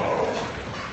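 Several dogs in rough, boisterous play, giving a steady mix of growls, yips and barks at close range with no talk over them.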